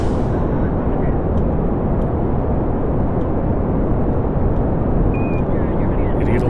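Kerbal Space Program rocket launching at full throttle: a loud, steady, dense engine roar fills the whole stretch without letting up, with a brief faint tone near the end.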